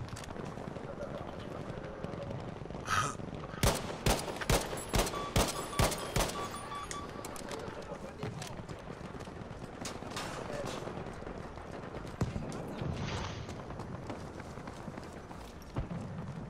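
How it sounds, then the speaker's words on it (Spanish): A rapid string of sharp gunshots in quick succession in Battlefield V, Conquest mode on the Rotterdam map, then scattered shots and a busy background with voices talking. "Muchos tiros, tío, Charlie."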